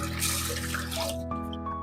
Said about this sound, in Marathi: हे पूर्ण पाणी आपल्याला याच्यातनं काढून घ्यायचं आहे व्यवस्थित असं